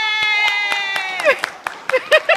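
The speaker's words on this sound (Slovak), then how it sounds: "A potlesk!" At a western riding show, scattered handclaps ring out in a loose rhythm while voices shout and cheer over them, with a sustained tonal call carrying through the first half.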